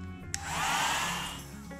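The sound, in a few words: hair dryer blowing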